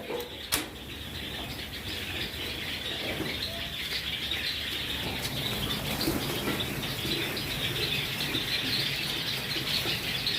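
White Java sparrows in a breeding colony give a steady flutter of wings with faint chirps and squeaks, plus one sharp knock near the start.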